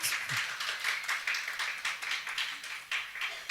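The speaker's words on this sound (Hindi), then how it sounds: "ताली बजा के बताओ" Children clapping their hands at a Bundeli dance competition, a run of quick, uneven, crowded claps that carry on steadily throughout at moderate loudness.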